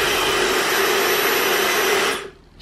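A Dyson hair dryer blows a loud, steady airy whoosh that fills the clip, then cuts off sharply near the end as it is switched off.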